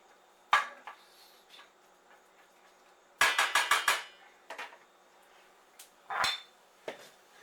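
A utensil scrapes and clanks against a pan while chopped meat and onions cook, with a single knock, a quick burst of rapid taps, then scattered scrapes and clinks, close and fairly quiet.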